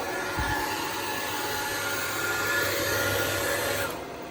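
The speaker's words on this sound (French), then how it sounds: "Je vais éteindre le sèche-cheveux" A hair dryer blows with a steady, loud whooshing roar that holds constant, then drops off near the end as it is switched off.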